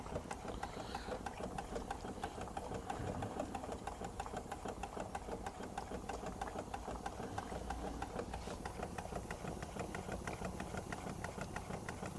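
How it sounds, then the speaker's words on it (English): A Stuart Turner steam engine, a large-cylinder model, running on compressed air instead of steam, gives a steady, continuous mechanical chugging and clatter with a fast even rhythm throughout, close and moderately loud, with no talk. "a 504 boiler won't run that engine, so I always run that on air"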